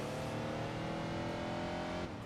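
A Corvette engine revs in the Enthusia Professional Racing driving game, a steady loud harmonic drone that holds throughout before dropping off abruptly near the end, with no talking.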